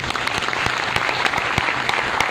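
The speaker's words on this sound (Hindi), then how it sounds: "उनके लिए जोरदार ताली हो जाए।" Steady applause from an audience at a Mi Lifestyle Marketing event, a dense crowd clapping continuously and loudly with no talk over it.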